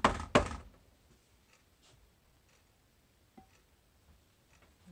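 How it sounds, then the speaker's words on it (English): A chocolate mould filled with layered chocolate is banged down twice on a hard surface to knock out air bubbles, two sharp close thuds in quick succession at the start, followed by near silence with faint small knocks. "Bang it down. Get any air bubbles out."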